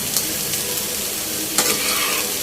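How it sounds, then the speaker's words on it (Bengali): Potatoes frying in a pan at home, a steady close sizzle with a couple of brief stirring scrapes, no voices. "আজকে শুধু আলু ভাজা করছি"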